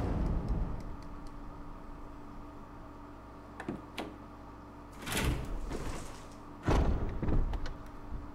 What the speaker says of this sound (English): Through the double doors.